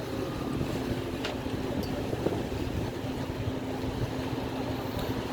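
A speed boat passes on open water near a ferry route, heard as a steady low engine rumble mixed with wind buffeting the microphone and a wash of water, unbroken throughout.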